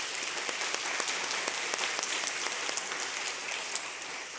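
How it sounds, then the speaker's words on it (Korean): A congregation at a Korean church's Sunday service in Detroit claps steadily to welcome newcomers, the dense applause filling the room evenly at moderate loudness with no talk over it. "일어서시면 환영의 박수 드리겠습니다"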